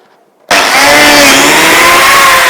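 A Triton TBJ001 biscuit joiner switches on sharply and cuts a slot in wood, giving a loud, steady high-pitched whine that holds without a break after a short quiet start.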